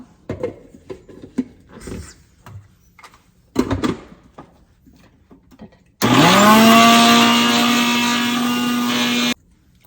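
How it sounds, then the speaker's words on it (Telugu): After a few clattering knocks and handling sounds, a kitchen mixer grinder spins up with a rising whine and runs loud and steady for several seconds, grinding cumin, coriander and fenugreek seeds. "మిక్సీ ఆ సౌండ్కి, భయమేసి అప్పుడప్పుడు వదిలేస్తుంటా."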